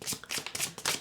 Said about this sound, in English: I was shuffling the card and this card was inside of the deck, upright.